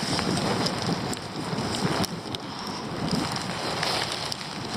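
Steady, dense rain pattering on a surface during a storm, continuous and fairly loud throughout with occasional sharper drops.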